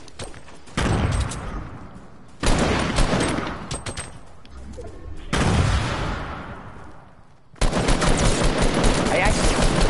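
Dense automatic gunfire from a PS4 shooter game comes in several loud sustained bursts, each starting abruptly and running for a couple of seconds, with brief quieter gaps between them.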